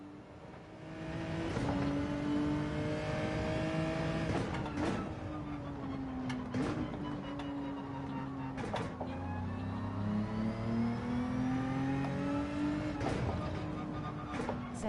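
A car engine revving repeatedly in a racing video game, rising and falling pitch sweeps as the throttle is applied through corners, steady and moderately loud with no talk.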